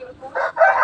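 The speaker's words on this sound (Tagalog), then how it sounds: "Ang ingay ng manok." A chicken lets out two short squawking calls close by, the second louder and longer than the first.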